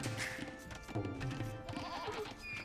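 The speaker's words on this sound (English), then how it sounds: "Bring your goats in. Oh, he's gonna lose goats." Goats bleating in the Age of Empires II strategy game, several short wavering animal cries layered over busy in-game sounds and faint music, continuous through the moment.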